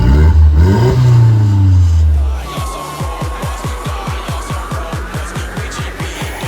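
An Audi TT with a newly fitted exhaust revs up with a rising roar, then settles into a rapid, pulsing idle burble with regular throbs, loud and close.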